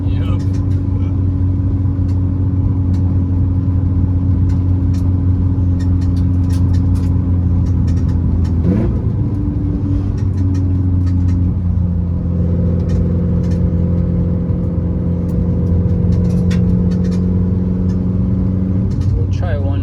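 A 2015 Subaru WRX STI with a Stage 2+ external-wastegate tune pulls on the road, its engine droning steadily from inside the cabin as the pitch rises and shifts partway through.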